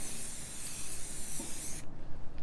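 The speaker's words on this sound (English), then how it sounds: "now we're gonna put a couple layers of spray paint on" Spray paint hisses steadily from an aerosol can onto a monitor support for an IKEA LINNMON desk, a continuous close, bright spray that cuts off abruptly near the end, followed by a brief final burst.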